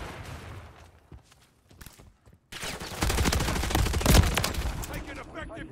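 Modern Warfare 3 multiplayer gunfire, dense rapid automatic bursts that start suddenly after a quieter lull and keep going loud and close, with a voice speaking.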